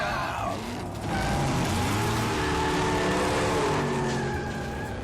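A cartoon car from Transformers: Robots in Disguise accelerating hard, a loud continuous engine roar that rises in pitch as it speeds up, with a voice briefly over it.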